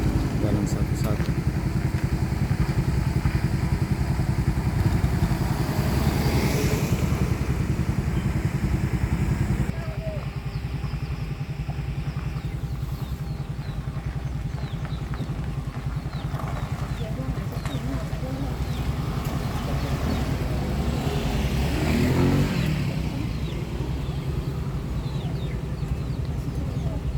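Motorcycles and cars passing one by one on a steep hill road under traffic officers' direction for single-lane flow, with steady engine rumble that swells and fades as vehicles climb past nearby, and voices in the background.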